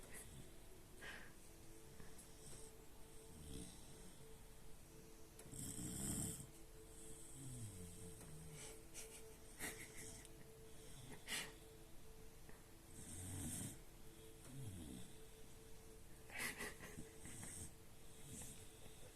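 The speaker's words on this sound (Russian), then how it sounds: "Храпун уже такой маленький." A Cane Corso puppy snores while asleep in someone's arms, giving soft, rhythmic snorting breaths that repeat every few seconds at close range, with faint hiss between them and no talk.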